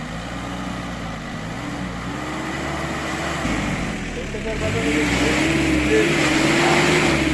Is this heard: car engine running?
yes